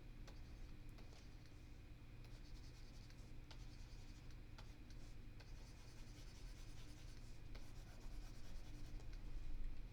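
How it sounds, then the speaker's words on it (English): Writing being erased from a board during a matrix lesson, a quiet, steady scratchy rubbing with repeated short strokes and faint ticks, continuous and close, with no talking. "I'm going to just erase a few things here"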